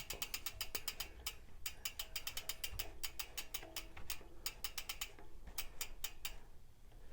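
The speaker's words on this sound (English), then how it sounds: "gently work the pistons back in by squeezing the lever maybe halfway, 3/4 way, and just waiting until it starts to bite" A mountain bike hydraulic brake lever is squeezed repeatedly to work the pistons back, giving quiet rapid mechanical clicking and ticking in irregular bursts throughout.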